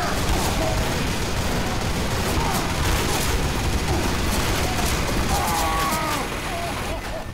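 Sentry gun in Team Fortress 2 firing in a rapid, sustained barrage of shots, loud and dense throughout amid other game noise and a voice talking over it.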